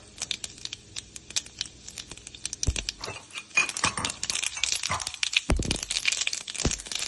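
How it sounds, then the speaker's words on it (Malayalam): Mustard seeds popping in hot ghee for sambar, a close run of sharp, irregular crackles and pops that grows denser and louder toward the end, no talk. "കടുക് പൊട്ടി വന്നിട്ടുണ്ട്."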